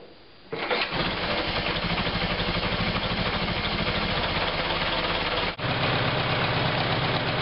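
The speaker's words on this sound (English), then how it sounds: "To do the test, you start the car and run it on battery." A 1915 car engine starts and runs on battery, settling into a steady, loud, chugging idle with a brief dip near the end before resuming, with no talking.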